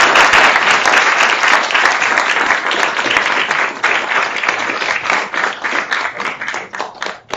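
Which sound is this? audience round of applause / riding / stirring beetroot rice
audience round of applause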